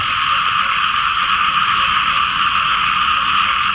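Frogs croak after the season's first rain in a dense, steady chorus. The sound is loud and close, with no voices.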